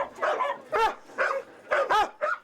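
Abandoned and surrendered dogs from Quebec at a Toronto and Hamilton SPCA shelter bark and yip in quick repeated bursts, about six sharp barks with whimpering tones between, fairly close and steady.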